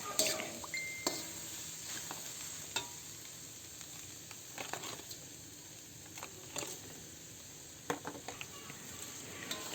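Shrimp and papaya cooking together in a pan for ginataang papaya: a soft, steady sizzle runs throughout, broken by occasional light clinks and stirring scrapes.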